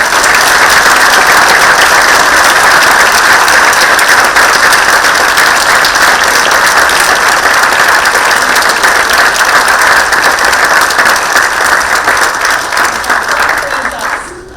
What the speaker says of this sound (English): I'll just clap really loudly and hope you'll join me